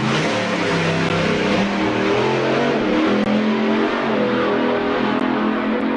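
Top methanol drag racing car engine at the staging line, a loud, continuous, rough roar with rising revs held close and unbroken for several seconds.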